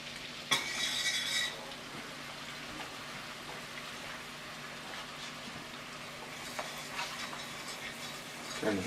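Flour stirred into hot fat and shallots for a lobster bisque roux, a soft scraping stir with a brief bright sizzle near the start, then a low steady hiss with occasional clinks.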